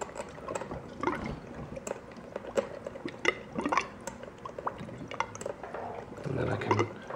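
Water drips and trickles through a DIY cold drip coffee maker converted from a coffee machine, with irregular close drops and small splashes, a brief fuller gush near the end.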